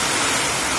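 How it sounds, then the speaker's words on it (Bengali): A sudden heavy midday downpour makes a dense, even, loud hiss of pouring rain that fills the whole moment without pause. "আর বলা নেই কওয়া নেই, কোথা থেকে দুপুরবেলায় এরকম ঝমঝমানো বৃষ্টি।"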